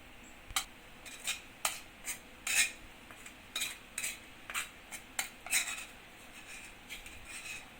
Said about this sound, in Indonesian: Tinggal kita ambil pakai sendok yang udah dilumurin sagu kayak tadi.